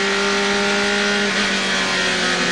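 A race car engine with a busted valve runs loud and close, a harsh, constant droning roar with steady tones and no break.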